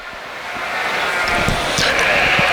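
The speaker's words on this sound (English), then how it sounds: "really a nice set of Slickshorn yearling ewes" Sheep bleating at a show ring full of yearling ewes, scattered calls over a constant busy crowd-and-barn background.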